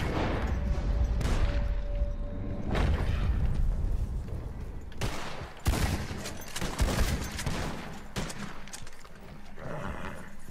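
Gunfire in the video game Red Dead Redemption 2, a string of loud close shots and sharp cracks scattered through the clip amid rumbling game ambience.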